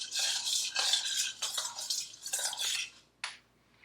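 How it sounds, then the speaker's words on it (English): A spoon stirs honey into vinegar for fire cider, scraping and swishing steadily in close, repeated strokes, then a single brief clink near the end, with no voices. "You're going to need to stir this around for a minute or two because it does take a little while for the honey to dissolve."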